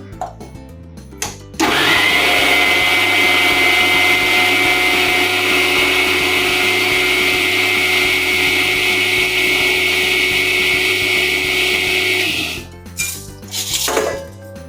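An electric mixer grinder whirs loudly and steadily for about ten seconds as it grinds lentils (dal) for chakli, then cuts off, followed by a few clattering knocks of the jar.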